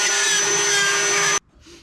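Ryobi power tool whirring loudly as it plunges into drywall, a steady close motor drone that cuts off abruptly partway through, leaving faint quiet after.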